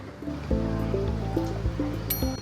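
Water is poured into a pot of beef for a Chettinad-style biryani, a steady close liquid stream with gurgling and dripping tones running throughout.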